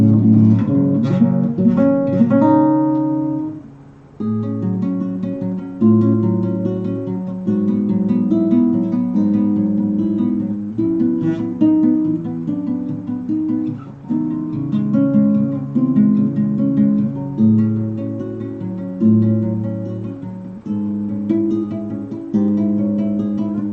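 On classical guitar, a theme plays as a flowing run of arpeggiated plucked notes. A brief pause breaks the line early, then a steady rippling pattern carries on close and clear with no talking.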